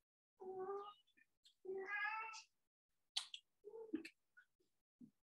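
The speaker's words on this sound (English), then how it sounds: "I don't know if you can hear my cat, but he's making a lot of noise." A cat meows twice in drawn-out, tonal cries, followed by a few shorter chirps and small noises, fairly close and quiet against an otherwise silent room.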